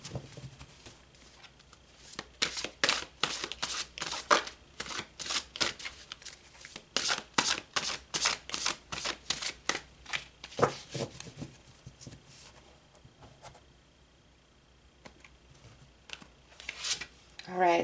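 Tarot cards being shuffled in bursts of rapid, crisp riffling patter, loud and close, with short pauses between rounds and a brief quiet stretch near the end.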